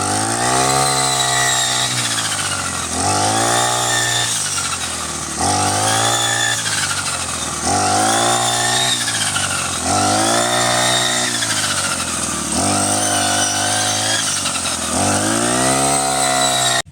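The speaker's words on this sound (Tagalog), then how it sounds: "itong grass cutter na 4-stroke at ito ay gasolina" Four-stroke gasoline brush cutter running steadily close by, its engine whine rising and falling in repeated revving surges about every two seconds, loud and continuous with no talk.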